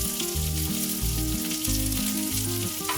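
Chopped onion and green chillies frying in a pan for a Tamil crab masala gravy, a steady sizzle that runs unbroken for the whole stretch with a musical tone sounding over it and no voices.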